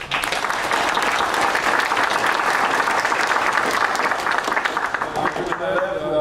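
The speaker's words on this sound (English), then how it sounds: "we got round of applause for stepping in" Steady applause from a crowd fills the room, dense clapping that holds at an even loudness before tapering slightly near the end.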